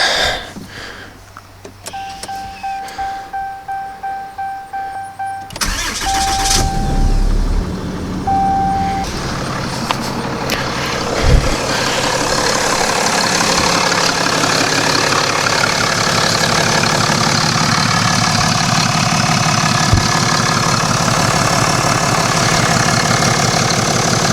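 A 2021 Ram 2500 pickup truck engine fitted with an S&B cold air intake cranks over with a rapid chugging starter, catches, and settles into a loud, steady rumbling idle close by.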